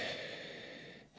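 A man imitates human breathing with a slight snore, one long breathy exhale that fades out, heard close and alone.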